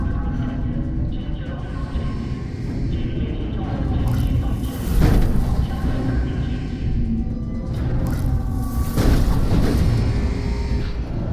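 A deep, rumbling explosion in the video game Beyond: Two Souls, with sustained heavy booms and crashing debris swelling in two loud waves.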